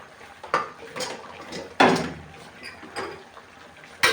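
Spoon or spatula scraping and clanking in a pan while spicy Thai catfish stir-fry with eggplant and chilies is stirred, several irregular close metallic knocks over a low background hiss.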